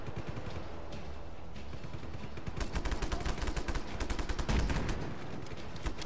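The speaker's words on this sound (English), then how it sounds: "All right, time to get out and shoot some people." Gunfire in the video game Just Cause 3: after a quieter start, rapid volleys of shots crackle in quick succession, fairly loud, with one heavier burst near the end.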